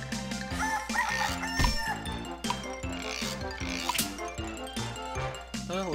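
A rooster crows as the Early Bird effect in the game Boot Hill Bounties, set against busy, dense game music with layered tones that run through the whole stretch.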